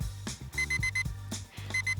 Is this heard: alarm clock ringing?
yes